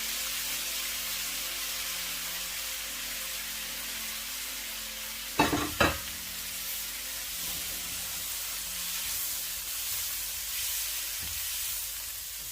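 Vegetables stir-frying in a pan with butter and garlic for a chicken and vegetable soup, a steady close sizzle and hiss broken by two sharp stirring knocks midway and one faint scrape later, with no talk.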